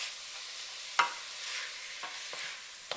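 Garlic sizzles steadily in a pan for chili verde, a soft continuous frying hiss broken by a few sharp stirring clicks and scrapes, with no talking.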